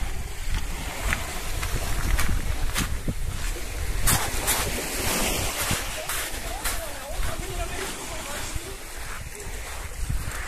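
Waves washing onto Mogren beach in Budva, Montenegro, a continuous surf wash mixed with wind buffeting the microphone, with a voice speaking over it.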